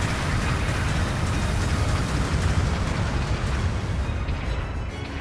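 Explosion of a destroyed mobile suit in a Gundam combat game on the Ravine map, a loud, dense rumbling blast that roars steadily for several seconds with broadband crackle.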